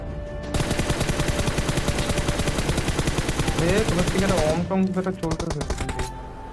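Rapid bursts of automatic gunfire from behind in PUBG Mobile, a dense run of loud shots lasting several seconds, then scattered single shots and fading echoes.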